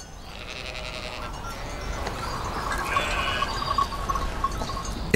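Sheep bleat repeatedly over a steady outdoor background, the calls moderately close and carrying clearly through the whole stretch with no talking.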